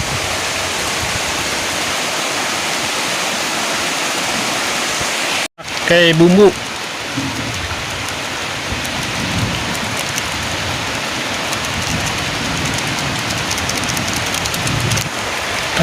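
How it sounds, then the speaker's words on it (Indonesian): Heavy rain pouring down outdoors during cooking, a loud dense continuous hiss that briefly cuts out then returns, with a person speaking over it. "Ini teman-teman hujannya gede banget nih, udah turun hujan gede banget"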